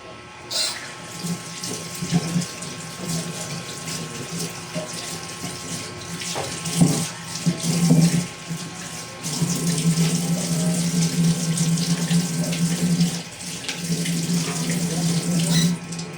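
Tap water runs steadily into a sink, rinsing tomatoes and onions, a continuous close splashing hiss with brief louder gushes as the vegetables are moved under the stream; a voice speaks faintly at moments.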